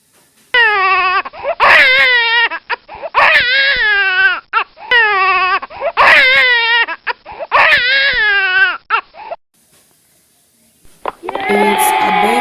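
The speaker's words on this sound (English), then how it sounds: "baby crying, crying." An infant cries in repeated wailing bursts, each lasting about a second or two and separated by short gasps, loud and close, before the crying stops and a different busy sound briefly begins at the end.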